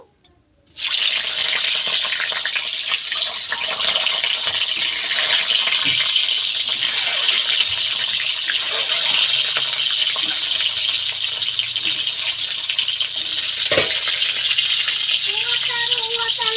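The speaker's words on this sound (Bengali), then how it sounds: "এইবার এই তেলের মধ্যেই ডিমগুলো দিয়ে ভেজে নেব।" Eggs drop into hot oil and fry with a loud, continuous, close sizzle that starts abruptly after a moment of quiet and holds steady throughout, with occasional faint clicks.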